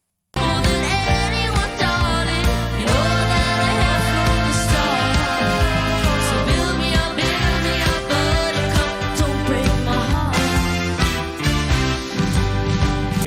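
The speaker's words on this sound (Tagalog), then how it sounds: "Yung tunog ng keyboard." Trumpet-like keyboard tone within the full band arrangement of a live cover song, playing steady melodic lines loud and continuous over drums and bass with no talking.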